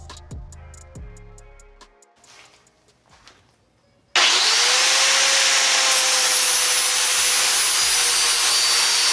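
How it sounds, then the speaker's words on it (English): Homemade improvised belt sander grinding a taper onto go-kart axles: after a few seconds of quieter knocking and handling, a loud, steady abrasive grinding roar starts abruptly and continues to the end. "this is my version of a redneck belt sander"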